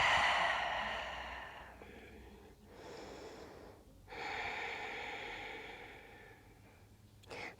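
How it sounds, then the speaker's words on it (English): Someone doing chair yoga breathes deeply, several close, airy breaths in and out with short pauses between them, the first one loudest, with no talking. "Take a big breath in,"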